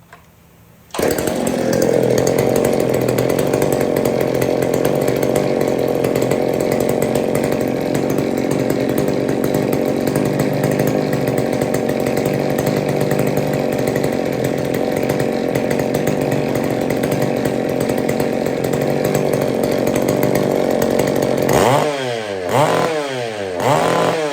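A vintage Homelite or McCulloch chainsaw, with no chain fitted, starts and runs at a steady, loud two-stroke idle for about twenty seconds, then sputters and stalls near the end.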